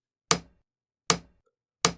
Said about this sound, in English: grab the hammer and gently tap the nail to start driving it into the plank